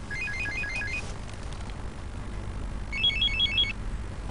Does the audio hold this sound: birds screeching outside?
no